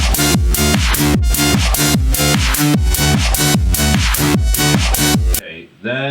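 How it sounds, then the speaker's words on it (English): Electronic music demo loop with a steady pounding kick beat and dense layered synths repeating evenly for about five seconds, then cutting off into a brief sliding tone at the end. "I've laid down the sort of initial demo loop, which sounds like this"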